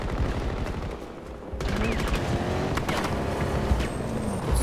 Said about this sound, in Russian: Кто-то стреляет по мне.